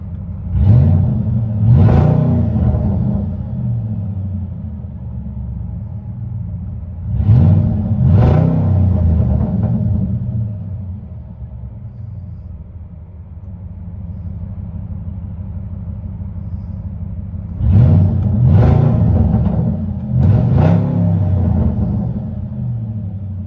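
Supercharged 5.4-litre V8 in a 2007 Saleen S331 truck with an H-pipe delete, revved in three bursts of paired blips over a deep, steady idle rumble, close and loud with no talk.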